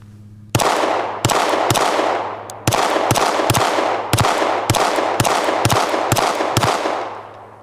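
Glock V pistol firing in a 1000-round torture test, about a dozen loud, sharp shots in a steady rapid string, each crack close and ringing, over a low background hum.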